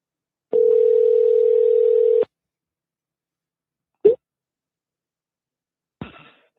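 Telephone dial tone on a call back to a customer support line, one steady hum lasting under two seconds, followed by two short isolated clicks or handling bumps in otherwise silent surroundings.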